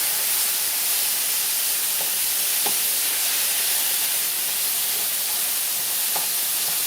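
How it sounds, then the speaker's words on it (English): Ground beef with Italian seasoning sizzles in a pan while being stirred: a steady, close frying hiss runs throughout, with a few faint scraping ticks and no talk. "I'm going to mix all of that up into the beef as it's cooking."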